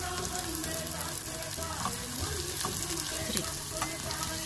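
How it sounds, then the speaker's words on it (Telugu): Spring onion frying in hot oil in a pan, with onion already in it, a steady close sizzle and crackle with occasional stirring scrapes and no pauses. "ఇప్పుడు స్ప్రింగ్ ఆనియన్ వేసుకుందామండి"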